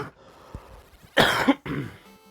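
Coughing from a person with a cold, a short throat-clearing sound followed by two harsh, close coughs in quick succession, heard alone.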